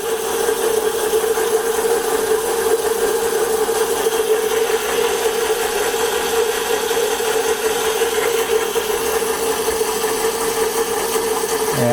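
Taig CNC mill spindle turning with a chain drive inside an enclosure, a steady mechanical hum with a constant whine and faint rattle, even and unbroken throughout.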